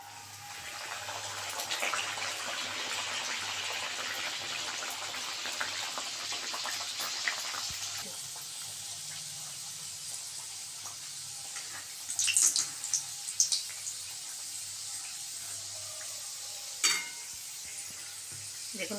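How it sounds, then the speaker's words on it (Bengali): Pea-stuffed chandrapuli pastries fry and puff up in hot oil in a wok, with a loud, continuous sizzle that later settles into a softer bubbling broken by a few splashy stirring bursts. "কড়াইশুঁটির চন্দ্রপুলিগুলো ভেজে নেব।"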